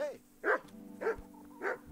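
A dog in the medieval video game Kingdom Come: Deliverance barks three times at a steady, roughly half-second spacing, fairly faint against a low background hum.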